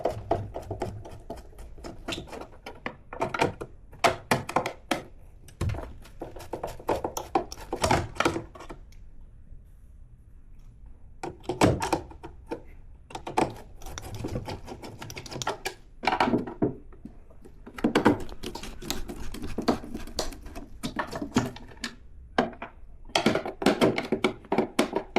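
Screws being removed from the back cover of a Sony SA-D10 home theater unit, heard as a series of close clicks, taps and handling knocks in irregular bursts with short pauses between them.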